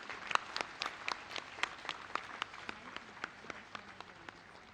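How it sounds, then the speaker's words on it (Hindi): A congregation at a church ceremony installing a new archbishop claps, giving fairly sparse, distinct hand claps that sound somewhat distant and soft. "जोरदार ताली बजाएं"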